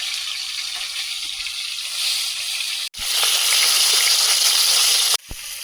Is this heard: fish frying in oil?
yes